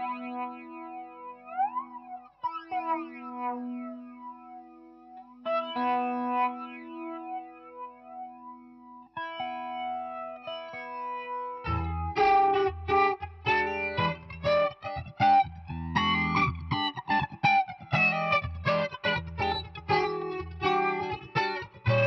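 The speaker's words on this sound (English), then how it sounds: "Let's get an air flanger type." Clean electric guitar notes ring out through a Mooer Elec Lady flanger pedal with a sweeping, swirling effect, first as sparse sustained chords, then a faster busy run of notes.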